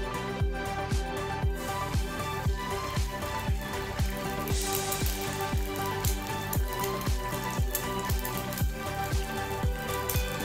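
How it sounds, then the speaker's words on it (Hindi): Thawed frozen egg half-frying in a pan, giving a soft steady sizzle with a regular crackling pulse throughout, fairly quiet and heard alone. "अब हम इसको करते हैं हाफ फ्राई"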